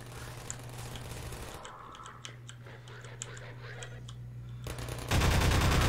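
A hand-held turret firing in Half-Life 2 gives off a quick string of sharp, clicking shots in short, uneven bursts over a low steady hum, and a loud wash of noise swells at the end.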